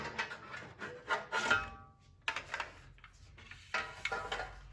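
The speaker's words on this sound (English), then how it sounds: "Now once you remove the screws, you can open the outer enclosure. Just slide it out." The outer metal enclosure of a Hikvision 7200 DVR slid off by hand, a close scraping rub in several bursts separated by short pauses.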